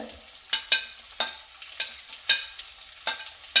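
Onion, shallots, crushed green chili, crushed ginger and garlic sautéing for a Kerala coconut-milk fish curry, a soft sizzle punctuated by about eight crisp spatula strokes against the pan, near and unaccompanied by talk.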